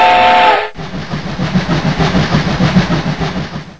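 A loud train whistle sounds briefly, then a running train takes over with a steady, rhythmic rumble and clatter close by, with no voices.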